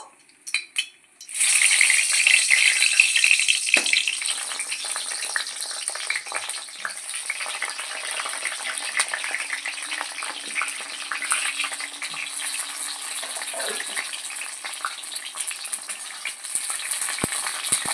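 Eggplant pieces hit hot oil and settle into a steady, close sizzle that carries on throughout, with occasional scrapes and clicks of stirring.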